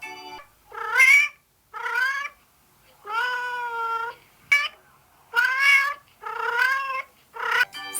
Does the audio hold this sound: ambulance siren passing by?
no